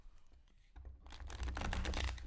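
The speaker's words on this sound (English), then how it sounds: "before that, I shuffle my cards like this." Tarot cards are shuffled by hand, a faint rustle at first that turns into a close, dense crackling riffle of cards in the second half.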